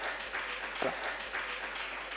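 Applause from the audience at a disaster risk reduction panel discussion, a steady patter of clapping hands that holds at an even, moderate level for a couple of seconds.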